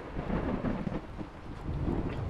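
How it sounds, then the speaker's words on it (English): A rumbling thunderstorm in the video game Skyrim, with low rolling thunder over a steady wash of rain; no voices are heard. "Try and sleep through the storm here."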